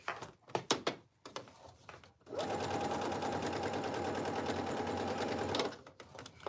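A home sewing machine stitches slowly through thick jacket fabric on a Burberry-style coat, a steady close mechanical whir lasting several seconds, with a few clicks and handling knocks before it starts and a soft clack as it stops.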